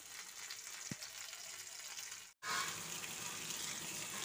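Fish frying in a pan at home, a steady broadband sizzle that holds level throughout, broken by one brief silent gap near the middle before the crackle resumes at the same strength.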